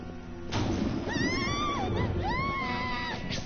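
A Persona 5 Royal video game scene in which long, rising and falling screams ring out over a steady background hum, two drawn-out wails separated by a short pause.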